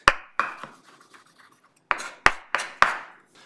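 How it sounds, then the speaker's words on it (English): A knife roughly chops garlic, crushed and stripped of its papery skins, on a board while a lamb tagine is being prepared, giving a few sharp close thuds, then a quiet pause, then four more evenly spaced strikes. "Just chop that up quite roughly."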